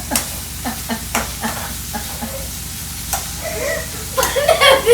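Ginger garlic paste frying in a pan for soybean chilli, with a loud close sizzle and repeated stirring scrapes and clinks, and a voice briefly talking over it.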